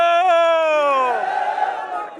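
A crowd at a Pakistan Peoples Party corner meeting in Hopar, Nagar, shouting a slogan back in unison. It is a loud sustained roar of many voices that fades into a ragged tail.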